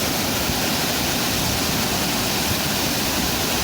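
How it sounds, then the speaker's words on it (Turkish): Canikdere waterfall in Tonya, Trabzon roars as water crashes with foam, a loud, dense, unbroken rush of white noise filling the whole moment. "Suların gümbür gümbür aktığını, köpükleriyle beraber aktığını izliyoruz"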